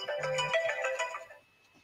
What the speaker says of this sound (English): I thought it was my phone.